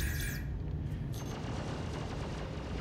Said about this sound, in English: We're coming under fire.